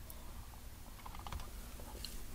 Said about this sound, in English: Let's use the keyboard and type our response.